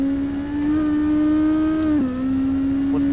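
A Honda lawnmower engine racing in Assetto Corsa around the Macau Guia Circuit, a loud steady buzzing drone that holds pitch, briefly dips, then settles slightly lower.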